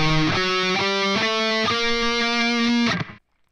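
Distorted electric guitar playing two measures of a song: a heavy sequence of sustained, shifting notes and riff changes, loud and close, ringing out briefly before stopping.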